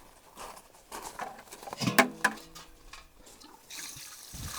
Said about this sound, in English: I take this urine, add some water to it.